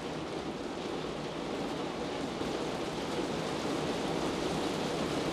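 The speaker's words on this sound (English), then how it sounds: "It's raining pretty hard." Heavy rain pours down in a dense, unbroken hiss that holds at an even, fairly loud level throughout, with no voices.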